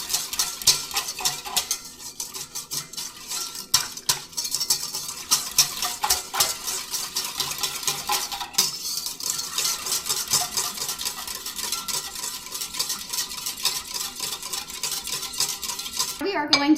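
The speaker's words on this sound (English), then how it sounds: "we're just going to whisk this up again." Rapid, steady clinking of a whisk beating breakfast batter in a bowl, a dense metallic scraping rhythm that runs continuously and close up with no talking.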